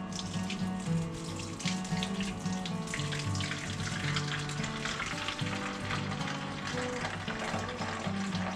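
Water being poured into a duck egg incubator, a steady close trickle and splash running continuously with no talk.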